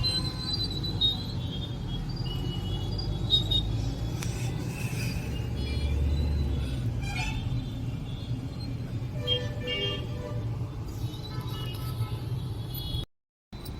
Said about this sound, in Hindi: हमारी ट्रैफिक देख लो, कितना बहुत ट्रैफिक है।